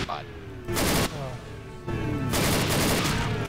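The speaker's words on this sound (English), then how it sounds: "Why are there so many explosions?" Left 4 Dead 2 gunfire and explosions, including a thrown pipe bomb, in loud, dense bursts, separated by brief quieter gaps.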